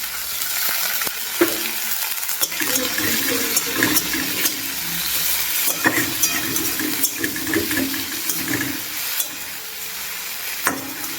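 Garlic and chopped tomatoes sizzle in a pan on a home stove, the frying hiss broken by frequent sharp clinks and scrapes of stirring.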